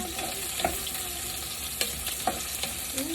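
Onion sautéing in a pan for udon with sardines: a steady close sizzle broken by a few sharp stirring knocks against the pan, with no voices.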